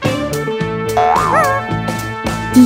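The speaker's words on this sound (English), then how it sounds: "Dog." A dog gives a few short yipping barks and a whining whimper, close and loud over a bright musical backing.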